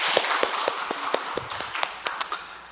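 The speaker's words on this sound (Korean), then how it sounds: "영광의 박수를 주님께 돌리십시다." A church congregation applauds at a Sunday worship service, a dense, even wash of many hands clapping with a few louder, sharper claps standing out, fading slightly toward the end.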